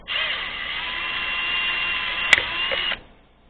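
Small high-pitched drill boring into an Xbox One controller button, a steady whine of about three seconds with a sharp click partway through, close and loud, then spinning down to silence.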